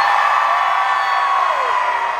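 A concert crowd at a live hip-hop show in Seattle screams on cue in one sustained, loud, dense roar that lasts the whole moment without a break.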